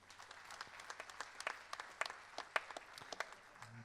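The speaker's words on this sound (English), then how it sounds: "Please give a big round of applause to Mr. Dan Spirit." Audience applause greets a drummer as he is welcomed to the stage, a steady patter of many hands clapping with sharper individual claps for about four seconds, fairly faint and distant, with no talking over it.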